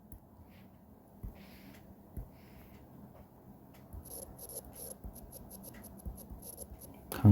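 A pen or marker scratches in short strokes while Japanese text is written out on a board, soft and close, with small taps and pauses between the strokes.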